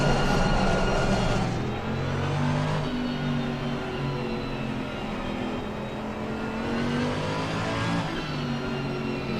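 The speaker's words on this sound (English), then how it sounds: "hold the throttle about halfway, switch into first gear, the car will roll off on" A Mercedes-AMG GT3 pulling away from a standstill at Imola in Assetto Corsa Competizione: a loud, close engine drone that climbs in pitch, drops back at gear shifts and climbs again, with no voices.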